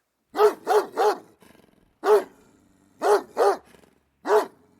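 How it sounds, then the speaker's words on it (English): A dog barks repeatedly in short bursts of two or three, with brief pauses between groups and a low growl in one gap, fairly close and loud. "At 3 o'clock in the morning, a dog barked in the Mexican camp."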